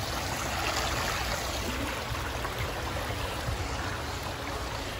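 Creek water runs with a current, giving a steady, broad rushing wash that holds at an even level without pause and without voices.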